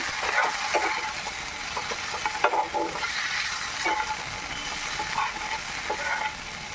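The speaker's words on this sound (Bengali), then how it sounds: "দিয়ে আবারও ভালো করে নেড়ে চেড়ে নিতে হবে" Mutton fries in a pan with spices, salt, turmeric and a pinch of sugar while being stirred, a steady close sizzle overlaid with repeated scraping strokes of the spatula.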